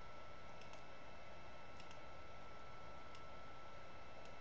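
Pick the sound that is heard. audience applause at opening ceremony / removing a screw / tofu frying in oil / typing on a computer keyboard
typing on a computer keyboard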